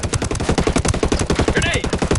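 Rapid automatic gunfire from the tactical shooter Ghost Recon Wildlands, loud, dense bursts of shots hammering steadily throughout, with a brief higher whistle partway through.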